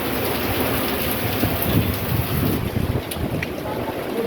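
Heavy rain pours down in Patan after a sudden change in weather, a dense, steady hiss with gusts of wind buffeting the microphone, loud and continuous throughout.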